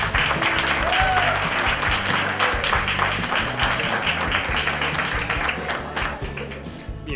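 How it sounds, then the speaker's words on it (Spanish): Audience applause at a medical talk on intermittent fasting, steady dense clapping filling the room throughout, close and loud, fading slightly at the end. "Un fuerte aplauso para Sebastián."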